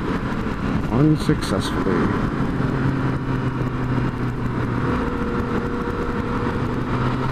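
Motorcycle engine revving and droning steadily during wheelie attempts on a road, close and loud, with someone talking over it.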